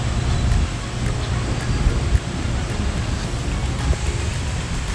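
Strong wind from a typhoon with rain at a Talisay, Batangas resort, a steady loud roar and rumble of gusts buffeting the microphone continuously, with faint rain patter mixed in and no talking.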